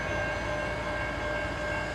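A CN eastbound mixed freight train sits stopped at a road crossing, its engines giving a steady, close rumble with a faint tonal whine and no voices.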